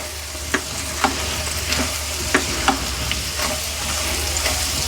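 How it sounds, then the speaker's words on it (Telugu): Keema meatballs fry and are stirred in a tomato-onion gravy, a steady close sizzle broken by several sharp scraping knocks of the spoon against the pan at uneven intervals, with no voices. "ఇప్పుడు నేను ముట్టిలు వేసేసిన"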